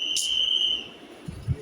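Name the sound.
whistle of garbage collectors arriving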